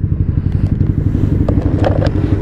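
A Honda VTR motorcycle engine idles steadily close by with a rumbling, pulsing low throb and a few light clatters over the top, with no speech.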